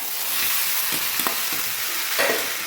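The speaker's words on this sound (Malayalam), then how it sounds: "ഇനി നമ്മൾ വേവിച്ച് വെച്ചേക്കുന്ന നമ്മുടെ കപ്പ അങ്ങോട്ട് ഇട്ട് കൊടുക്കുവാണേ." Boiled tapioca hits a hot pan of frying mustard-seed tempering for a Kollam-style lunch, giving a steady close sizzle broken by a few scraping stirs, with no talk.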